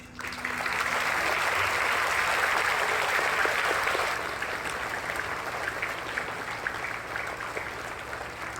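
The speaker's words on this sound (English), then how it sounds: "I want to just give a big round of applause for all the participants" An audience applauds participants of a school inter-house dance contest with a sustained, dense wash of clapping that swells early and then settles slightly, continuing steadily throughout.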